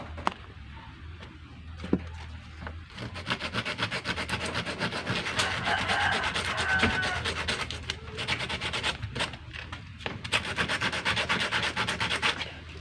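Sandpaper scrubs the copper contact of a fish shocker that won't sound, a close, steady rasping of rapid back-and-forth strokes that runs continuously with no talking.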